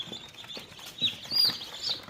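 Faint, thin peeping of newly hatched Andijan black breed chicks fresh from an incubator, a few brief high chirps scattered over about two seconds with no voices.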